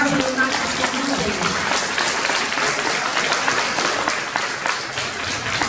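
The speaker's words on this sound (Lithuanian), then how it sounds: "Dar kartą plojimai šiai gražiai jaunatviškai nuotaikai." Sustained applause from an audience at a school event in a progymnasium hall, dense steady clapping filling the room for several seconds with a voice faintly under it.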